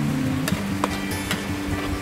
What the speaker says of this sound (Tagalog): Halo-haloin ang mga sauce.